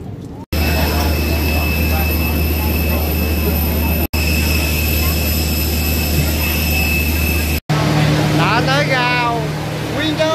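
A jet airliner's engines drone loud and steady at an airport, heard from a passenger bus carrying travellers out to the plane, with a constant low hum and brief cuts in the sound; a high chirping sound rises near the end.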